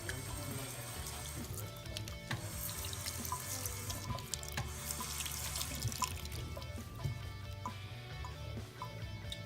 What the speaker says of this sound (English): Rinses surface of denture under moderate temperature running water.